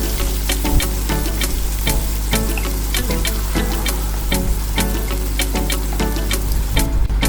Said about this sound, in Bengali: এখানে অ্যাড করব 2টো মিডিয়াম সাইজের কুচনো পেঁয়াজ আর সাথে 2টো কাঁচা লঙ্কা